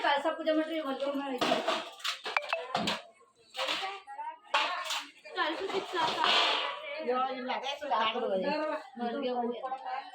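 Metal thali plates are handled and clatter in short, sharp clinks and scrapes during a household ceremony, mixed in with steady nearby talk from several people.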